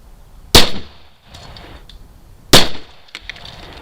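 Two sharp, loud cracks about two seconds apart from a Smith & Wesson M&P15 AR-15 firing 5.56 rounds at a can of corn outdoors, each shot followed by a short ringing tail and faint after-sounds.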